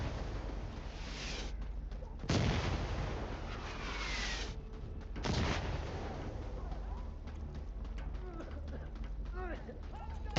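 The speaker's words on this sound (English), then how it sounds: "sounds like they're doing smoke artillery" Artillery fire in the video game Insurgency Sandstorm, with two heavy booming blasts a few seconds apart among continuous rumbling battle noise and scattered smaller shots.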